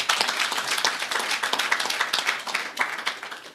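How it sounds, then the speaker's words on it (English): Audience applause for management at an enterprise annual staff gathering, a dense wash of many hands clapping at close range, steady and fairly loud, then thinning slightly toward the end. "I think we all need to give a round of applause to management"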